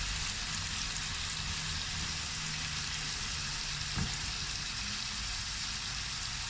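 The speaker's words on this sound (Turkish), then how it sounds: "Böyle kabaklarımı kızartacağım burada. Sotelenecek, kızaracak." Continuous loud sizzling of zucchini frying in hot oil, a steady crackling hiss with one faint clink midway.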